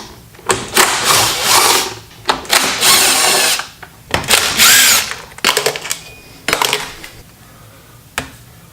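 Wrenching and unbolting the oil tank on a Yamaha PW80 dirt bike in a junkyard build, with bursts of metallic ratcheting and clanking tool noise separated by short pauses, loud and close, no voices.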